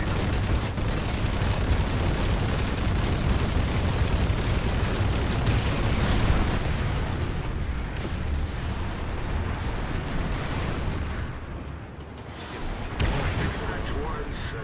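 A C4 explosion in the Planetside 2 video game, buried in a continuous wash of booming battle noise with artillery-like rumble and gunfire that holds loud through the whole stretch, with talk faintly mixed in.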